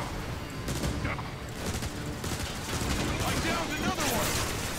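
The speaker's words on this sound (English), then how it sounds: "I'm gonna shoot them a lot? I can do that." Dense bursts of rapid gunfire from a War for Cybertron combat mission crackle almost continuously, loud and chaotic, with overlapping shots and blasts filling the whole stretch.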